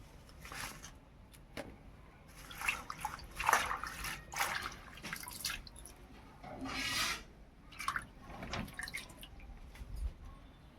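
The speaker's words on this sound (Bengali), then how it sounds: "গাঁদালি পাতাগুলো ভালো করে ধুয়ে পরিষ্কার করে নেব" Gandal leaves being washed by hand in water: soft intermittent splashes, drips and squishy rinsing sounds at close range, irregular and fairly quiet.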